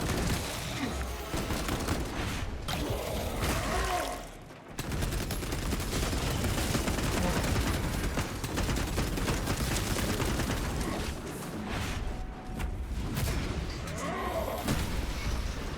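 Heavy bolter fire in Space Marine 2 on patch 11.0, a dense, sustained fusillade of rapid booming shots roaring almost continuously through the clip, with one brief dip in intensity.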